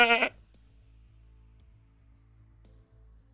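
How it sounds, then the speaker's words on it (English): In a video game, a bird gives one short, bright sheep-like bleat up close, then only a low steady background hum remains for the rest of the moment. "why a bird can make a perfect sheep sound"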